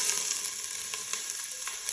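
Onion, ginger and garlic sizzle steadily in hot olive oil in a pot: a close, bright, continuous hiss with a few soft pops and crackles, and no talking.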